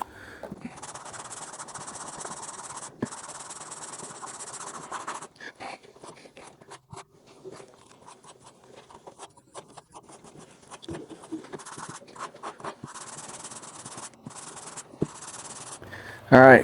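Hand sanding of car body paint with 180 grit sandpaper, faint scratchy rubbing strokes in uneven bursts with pauses, fairly close.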